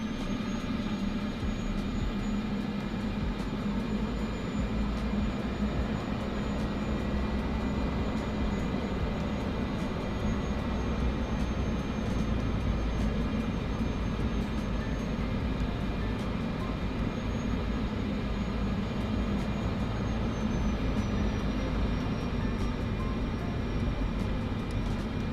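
Cessna Caravan turboprop idling and taxiing in a flight simulator, a steady broadband engine drone with a low rumble and a faint high whine that holds evenly throughout with no voices.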